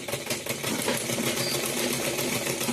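A sewing machine stitching cotton blouse fabric, a fast, steady mechanical whir with rapid regular ticking, close and continuous after a brief stuttering start.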